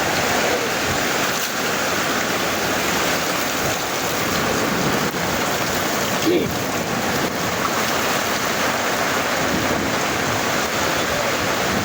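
Rising floodwater fills a subdivision in East Meridian with a steady, broadband rushing wash, like rain and surging water, constant and loud throughout with faint voices underneath.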